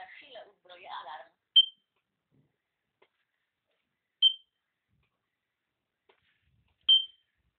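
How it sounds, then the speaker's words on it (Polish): A smart home alarm system arming, with three short, sharp, high beeps spaced a few seconds apart in an otherwise silent room, following a brief moment of speech. "Uwaga, za chwilę uzbroję alarm."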